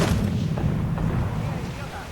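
Repeated heavy booms of ship cannon fire in the game Assassin's Creed: Black Flag, dense low rumble continuing throughout with no pauses, loud and close.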